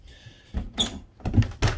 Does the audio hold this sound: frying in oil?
no